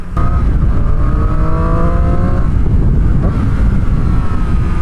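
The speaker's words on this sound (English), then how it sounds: "Really get that throttle opened up and it just sounds great." A 2019 Triumph Street Triple R motorcycle engine roars loudly and continuously under heavy throttle, steady and close, with rising harmonic tones early on and rushing wind noise throughout.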